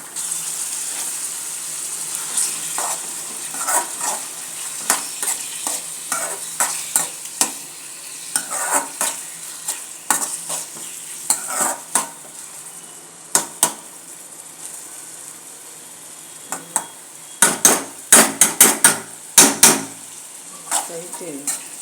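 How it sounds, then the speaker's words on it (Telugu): Chicken frying in a pan with masala and cumin, stirred vigorously: loud clattering scrapes and knocks of a spoon against metal over a low sizzle, coming in irregular bursts that grow dense and sharp near the end. "చికెన్ ఫ్రై చేస్తున్నానండి"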